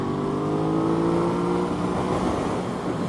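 A 2021 Aprilia RS660 motorcycle pulls hard out of a track corner in third gear, its engine note steady and loud with a rising harmonic drone and wind rush throughout.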